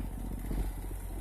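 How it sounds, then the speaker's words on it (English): A truck's diesel engine idles alongside a running trailer reefer unit in a Walmart parking lot, giving a steady, close, low rumble with a faint mechanical clatter and no talk. "I got my engine running on my truck"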